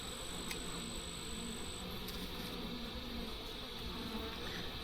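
Honeybee drones buzz around an open hive frame from a split, a soft steady insect drone with faint passing whines from bees flying close, all quiet and continuous without talk.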